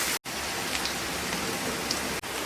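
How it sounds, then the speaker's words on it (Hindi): Garlic and ginger fry in a pan with ridge gourd, giving a steady, close hiss of sizzling oil that is interrupted by two brief silent cuts. "अब हम इसमें लहसुन डालेंगे और इसके साथ ही अदरक को डाल देंगे। अब इसको 1 मिनट तक भूनेंगे।"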